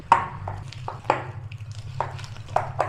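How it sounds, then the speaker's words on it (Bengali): A hand beats medu vada batter, made with gram flour and rice flour, in a bowl, giving wet slapping pats at an irregular rhythm roughly every half second, close and fairly loud over a low background hum. "এবার এটা হাত দিয়ে ভালো করে ফেটাতে হবে।"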